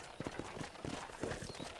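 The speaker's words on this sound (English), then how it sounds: "let's see if you can still ride a horse" Hooves clip-clop in a steady, rhythmic gait as a horse is ridden around a ranch in the Red Dead Redemption video game, fairly quiet and close.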